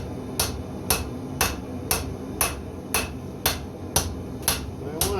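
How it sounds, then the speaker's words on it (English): A hammer striking hot metal while forging a tomahawk, ten sharp ringing blows at a steady, even rhythm of about two per second, loud and close over low shop background noise. "I want to smack it with the hammer."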